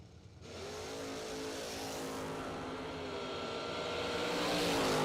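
A Chevrolet Camaro drag race car launches at a drag strip racer event, its engine roar swelling in and climbing steadily in pitch as it pulls away, loud and close with no talk.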